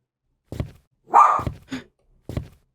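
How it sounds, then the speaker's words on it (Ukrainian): In a video game, a dog gives a short series of sharp, close barks and yips separated by brief pauses, loud and with nothing else underneath. "Собака!"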